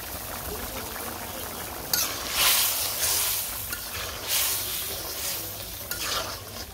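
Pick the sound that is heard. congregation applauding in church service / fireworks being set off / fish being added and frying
fish being added and frying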